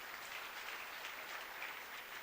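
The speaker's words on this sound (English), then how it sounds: "Can we also give him a big round of applause" Steady applause from a graduation ceremony audience at the University of Limpopo, a dense, even wash of clapping that carries on throughout with no voices over it.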